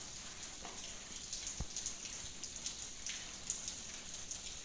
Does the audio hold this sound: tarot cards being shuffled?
no